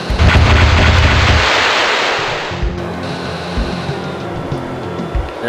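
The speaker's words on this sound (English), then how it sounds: "And time to start the bombing." Bombs dropped from a B-2A Spirit bomber explode in the Fighters Anthology flight game, a loud rumbling blast that rolls away into a long roaring decay over a low engine drone.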